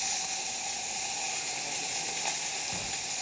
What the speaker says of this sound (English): So at this point we're going to release some of that steam